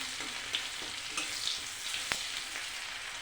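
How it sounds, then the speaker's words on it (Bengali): Onions fry in hot oil for an egg curry, giving a steady, quiet sizzle with faint crackles and a few soft stirring clicks. "তেল গরম হয়ে গেছে, পেঁয়াজ দিয়ে দিয়েছি"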